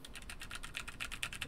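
Steady, rapid keystrokes on a Logitech MX Mechanical Mini mechanical keyboard, a quick even run of light clicks close to the microphone, with no voices.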